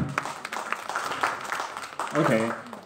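An audience applauds during a live twin duo performance in a bookstore event space, with a burst of scattered, fairly close clapping. A voice speaks over the end of the clapping.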